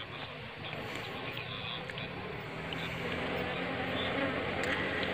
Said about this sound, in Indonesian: lebah tidak mau masuk ya kalau kita melakukan pemecahan koloni.